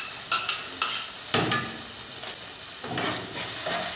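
Tomatoes hit a pan of frying garlic with a brief sizzle, followed by a few spoon scrapes and a soft, continuous crackle of oil at close range.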